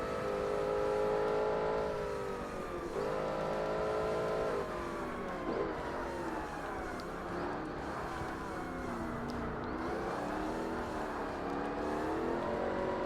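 A racing car engine in the Forza Motorsport game drones steadily during an amateur race, with rising and falling revs through gear changes and a continuous loud whir throughout, no talking heard.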